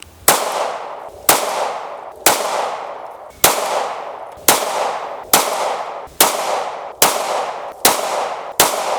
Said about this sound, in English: we're gonna be shooting the Hellcat, 15 rounds downrange at Cardboard Man